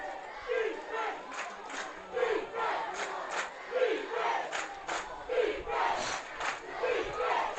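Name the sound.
football crowd hollering for defense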